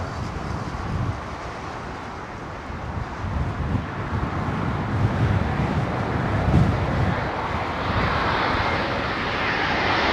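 An Air India airliner makes a very low departure at Heathrow, its engine roar rising steadily and loud over wind buffeting the microphone.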